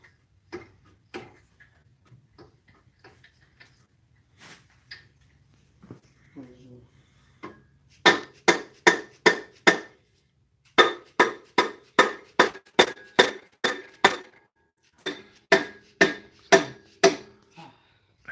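Sharp, regular hammer blows ring out in two bursts of steady strikes, loud and close, while working on an RB25 engine, after a quieter stretch of scattered taps and faint murmuring.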